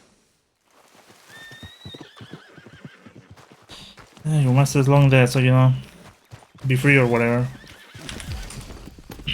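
A horse in Red Dead Redemption 2 lets out two long, loud whinnies between quieter hoof clops and movement, while someone talks at the start and end.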